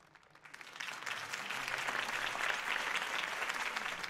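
A video game crowd in Batman: The Telltale Series breaks into applause, building quickly from quiet into sustained, dense clapping that holds steady to the end.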